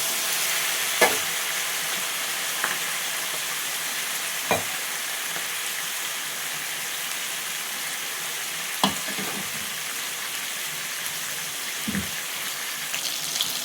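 Capsicum curry with masala fries in a pan with a steady, dense sizzle, broken by several sharp scrapes and knocks of a spoon stirring, close by and with no talking.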